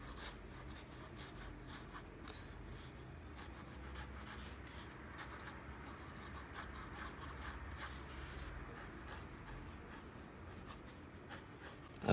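Pencil strokes scratch and rub steadily across paper as a cartoon emoji character is drawn, a continuous close, quiet scraping texture with short bursts and pauses.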